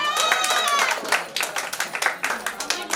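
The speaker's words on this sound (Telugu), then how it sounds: "So big clap to him." An audience claps at a shashtipoorthi (sixtieth-birthday) family celebration; a voice speaks at first, then scattered, irregular claps follow at moderate distance.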